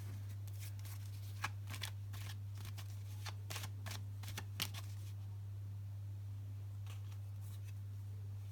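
A series of soft, papery tarot card riffles and flicks, quiet and close, with a steady low electrical hum running underneath throughout.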